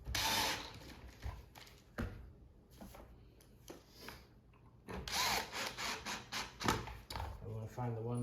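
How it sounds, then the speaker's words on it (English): A power drill drives pocket screws into a wooden three-level shoe bench, with short whirring bursts and a run of pulsing drilling near the end, partly under a person talking. "There's pocket screws that go in."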